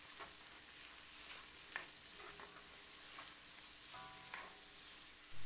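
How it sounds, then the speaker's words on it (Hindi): Chicken pieces with garlic sizzle in a pan, a faint, steady frying hiss with occasional soft stirring scrapes and no voices. "हम इसमें डाल देंगे चिकन इसको भी थोड़ा सा भूनेंगे"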